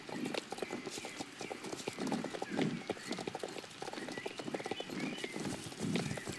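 Horse hooves clip-clop steadily in the Star Stable video game, a rhythmic trot of close, moderately loud hoofbeats with a brief whinny-like sound mixed in.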